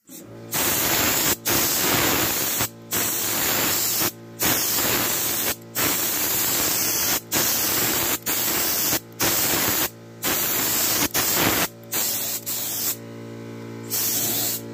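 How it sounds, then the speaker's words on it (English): Bursts of a paint spray gun hissing in long, loud blasts separated by short pauses, with a steady hum underneath, during bodywork on a 1967 Chevelle. "I was going to use my other spray gun."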